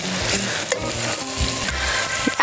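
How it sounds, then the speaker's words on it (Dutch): Onions frying crisply in a pan for a lentil stew with rice, steady sizzle with stirring scrapes close up, no voices. "Uitjes moeten nog even knapperig bakken."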